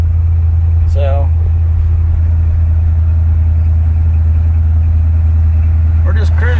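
Heard from inside the cab, a 1972 Chevy C20 pickup truck drives through town with a loud, steady low engine drone, and brief speech comes in over it twice.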